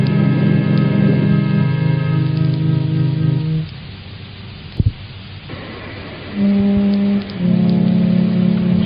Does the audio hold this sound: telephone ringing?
no